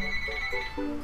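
A home telephone rings faintly in the background under game music, short repeating tones over about a second.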